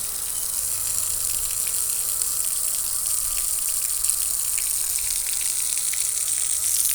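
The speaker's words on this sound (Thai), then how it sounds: "แม่น้ำเขาก็ปล่อยมาแล้วค่ะ แม่น้ำปล่อยมาเต็มตะลิงเลยนะคะ" River water released and rushing along, a steady broadband gush with a constant hiss and low rumble, heard close and without breaks or talking.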